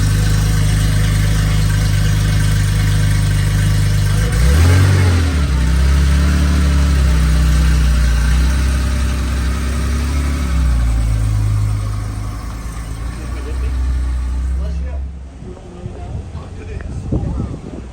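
A Porsche GT3 engine idles, then gives a short, moderate rev and settles back to a steady idle before cutting off, heard close up with no one talking.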